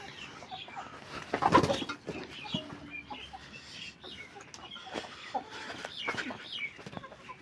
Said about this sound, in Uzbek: o tovuqlarimiz qandoq ovqatlanishadi